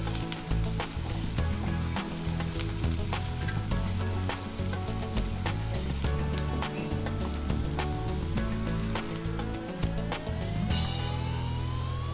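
Onions and green chilies fry in a pan with a steady, loud sizzle and crackle throughout, with a rising tone near the end that may be a distant siren; no one speaks.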